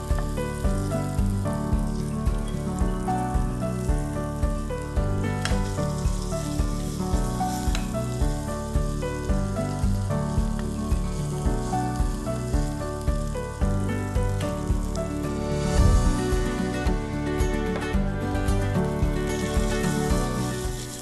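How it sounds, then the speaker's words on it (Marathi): Paneer cubes shallow frying in a pan of hot oil, giving a steady, dense sizzle that holds throughout with faint crackles and a brief swell of spattering near the end, no voices. "हलका असा कलर येण्यासाठी आपण पनीर सीझर करून घेऊयात."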